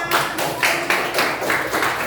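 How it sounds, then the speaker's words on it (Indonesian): A school class claps together in a steady rhythm, with sharp unison bursts about three times a second, close and loud through the whole moment. "tepuk tangan untuk kita semua"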